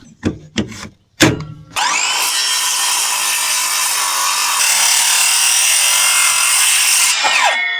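A circular saw cuts into a thick wooden beam, first with a few short revving bursts, then a loud, steady, high-pitched whine of the blade through the wood for about six seconds before it winds down.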